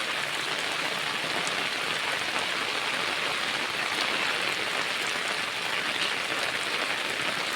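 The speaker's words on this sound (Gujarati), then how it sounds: "વરસાદ" Heavy rain pours down in Amreli district in a dense, unbroken hiss that stays loud and even from start to end, with no voices.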